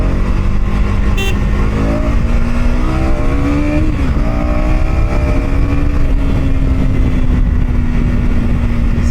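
KTM Duke motorcycle engine at night in Guwahati, revving hard and accelerating close by, the engine note climbing in pitch, dipping at a gear change, then holding a steady loud drone over road noise.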